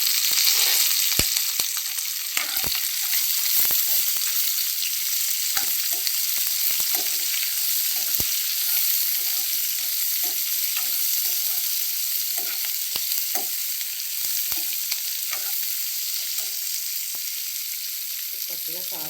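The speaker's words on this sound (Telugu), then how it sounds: "ఇవి ఫ్రై అయ్యాయండి. ఇప్పుడు ఉల్లిపాయ పచ్చిమిర్చి వేస్తున్నాము." Onions and green chillies fry in hot oil in a pan as part of a bitter gourd fry, a continuous bright sizzle with scattered clicks and scrapes of stirring throughout, close and fairly loud.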